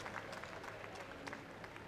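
A crowd at the Milton, Canada track cycling Nations Cup applauds the medalists on the podium: faint, distant clapping in a brief, steady wash of a large indoor arena.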